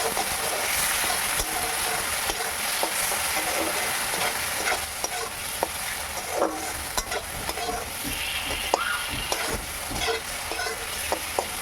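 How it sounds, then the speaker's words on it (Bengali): Chopped tomato being stirred and fried in a pan for a rui fish curry gives a steady, moderate sizzle, broken by scattered scrapes and clicks of the spoon against the pan, with no speech. "টমেটোটাকে ভালো করে নেড়ে চেড়ে ভেজে নেব।"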